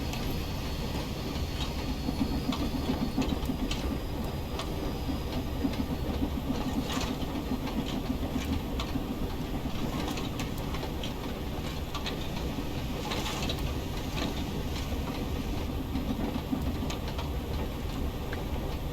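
In a train simulator, an LMS Stanier 8F steam locomotive hauls a heavy coal train on wet rail, giving a steady rolling rumble with repeated clicking and clacking wheel beats throughout and no talk.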